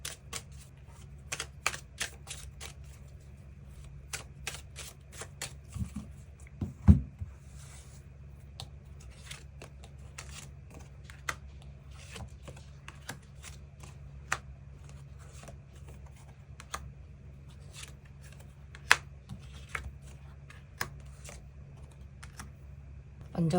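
Tarot cards are drawn and shuffled in a quiet room, with scattered soft snaps, flicks and taps spread irregularly over a low steady background hum.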